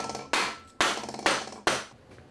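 Aluminum front edge trim is tapped onto a particle board shelf, giving four sharp, evenly spaced knocks, each with a short ringing decay, close and alone.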